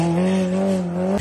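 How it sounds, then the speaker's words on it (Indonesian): A red toy race car gives a short, steady engine-like drone lasting about a second, loud and close with no talking. "Ada mobil balap berwarna merah."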